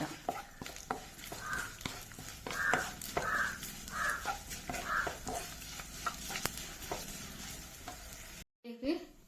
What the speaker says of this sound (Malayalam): വെളിച്ചെണ്ണ ഒഴിച്ച് നല്ലോണം വറുക്കുക.